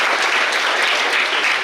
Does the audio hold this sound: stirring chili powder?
no